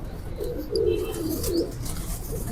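Soft, low pigeon coos swell twice, near and moderately loud, from a green pigeon settled low among a pair of breeding pigeons in a Sialkot loft, over a steady background hum.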